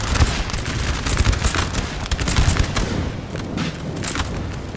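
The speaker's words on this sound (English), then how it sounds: "And now that artillery is really rocking over here too." Artillery fire in a Napoleon: Total War line battle, a loud, dense barrage of booming cannon blasts and crackling volleys that overlap continuously with no pauses and no voices.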